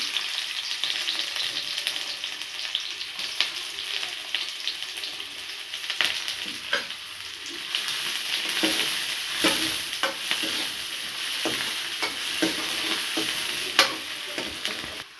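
Onions fry in a pan for an aloo paratha filling, a continuous close sizzle broken by repeated scraping strokes of a spatula stirring them, with no voices.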